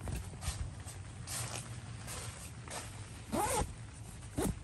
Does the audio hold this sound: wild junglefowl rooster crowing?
no